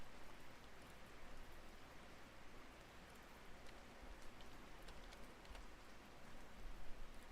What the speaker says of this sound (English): is it raining in the duck game? Oh my god, it is.